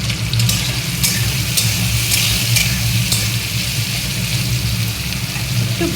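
Crushed garlic sizzles in hot oil in a pan for chicken curry, a steady frying hiss over a low hum, with a few sharp spattering pops near the start.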